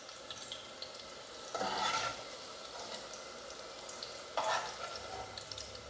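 Bitter gourd pieces frying in a pan give a steady low sizzle, with two louder bursts of stirring and scraping about three seconds apart.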